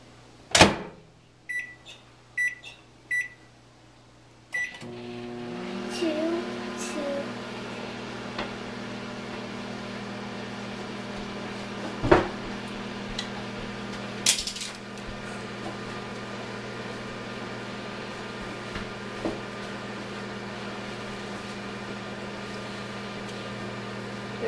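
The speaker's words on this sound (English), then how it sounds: "then we're gonna put it in the microwave and then watch what happens" Microwave oven running with a bar of Ivory soap inside, a steady close hum with a low drone after a few beeps and a door click at the start, with occasional small clicks and crackles over the run.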